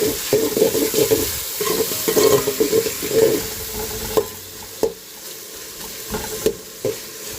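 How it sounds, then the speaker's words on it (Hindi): Chopped tomatoes stirred into onions and green chillies frying in a pan: a steady close sizzle with rhythmic scraping of a spoon, then the sizzle softens and a few sharp clacks of the spoon against the pan remain. "अभी मैं टमाटर भी काट के इसके अंदर डाल दिया, थोड़ा सा घुमा लेता हूँ"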